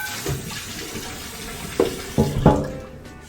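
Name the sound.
hot water running into the kitchen sink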